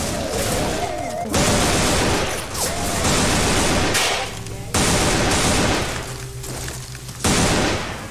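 AK rifle gunfire in the video game Left 4 Dead 2, with loud sustained bursts of automatic fire that stop and start in a repeating rhythm, close and harsh, plus brief gaps with game sounds between them.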